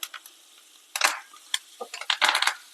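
Curry leaves and grated coconut sautéing in oil for black urad dal rice, with light crackling sizzles and soft stirring scrapes in irregular bursts, quiet and close.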